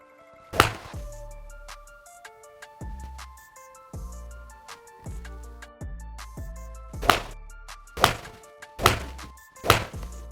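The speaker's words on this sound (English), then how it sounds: "I'm going to have a few shots with this 9-iron" Several one-length Cobra Radspeed 9-iron golf shots, each a sharp, loud strike followed by a fading ring, repeated at irregular intervals of one to two seconds with quiet between them and no talking.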